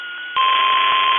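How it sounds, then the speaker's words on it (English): A weather radio test runs on public warning station KEAC 56. A steady electronic alarm tone holds, then steps up in pitch and volume partway through and continues loud and unbroken. "The preceding signal was a test of the public warning system for weather radio station KEAC 56"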